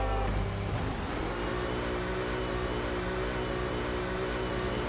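F1 race cars in a video game racing at Britain, steady high-revving engine drone with a car accelerating near the start, continuous and loud.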